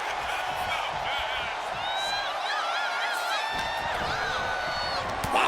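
Arena crowd in the WWE 2K25 wrestling video game cheering and whooping steadily in the distance, a continuous roar with rising shouts, under a commentator talking.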